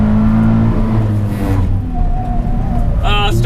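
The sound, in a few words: Toyota 86 TRD Subaru engine revving on track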